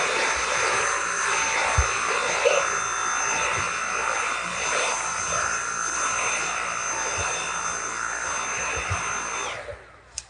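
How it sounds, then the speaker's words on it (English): A silver Dyson V8 Absolute cordless vacuum runs while cleaning up a mess on the floor, a steady close whine with a broad airy hiss that cuts off near the end. "I've got the Dyson V8 Absolute cordless vacuum"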